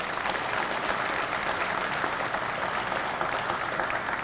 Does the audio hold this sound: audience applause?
yes